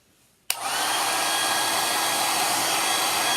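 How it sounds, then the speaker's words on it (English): A handheld hair blow dryer switches on after a quiet moment and runs steadily on high with a loud, close, even whoosh and a faint motor whine, drying the fabric saddle of a craft reindeer. "I'm going to grab my blow dryer"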